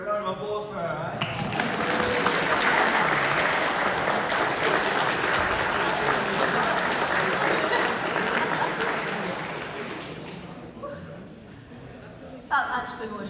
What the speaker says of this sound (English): We're round of applause for her, eh?